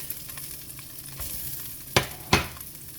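Onions dropped into a hot beef stew pot start to sizzle, with two sharp bursts of frying hiss standing out over a low, steady background crackle.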